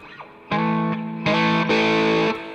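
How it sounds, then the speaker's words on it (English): A blues rock electric guitar riff plays a few sustained notes. The first note is struck softly, then harder picking drives the tone into a brighter, louder distortion, close and without any voices. "So you start soft and then attack harder to start with a soft sound, then get into a distortion"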